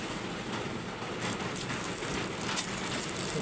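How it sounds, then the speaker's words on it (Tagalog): Heavy rain pouring down in Dasmariñas in the early morning, a dense steady hiss of falling water with a few sharper splashes, continuous and loud throughout. "Nagising ako sa buhos ng ulan guys."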